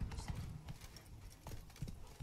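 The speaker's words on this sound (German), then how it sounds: "Pferderennen ist cool." Hooves of a galloping horse in a horse race in the video game The Witcher 3: Wild Hunt, Blood and Wine, a quick, uneven clip-clop rhythm of close, fairly loud thuds with no talking.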